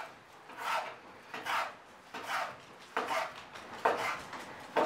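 A knife slices bacon thin on a cutting board with a steady series of rasping strokes, roughly one every second, close and clear with no talking.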